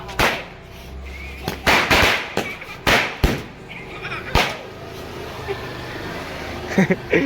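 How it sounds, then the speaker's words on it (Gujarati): Sharp firecracker bangs burst one after another at irregular intervals during Diwali, some close and loud, with crackling and outdoor background noise between them. "કેટલા બધા બોમ્બ હળગાય બીડી બોમ્બ"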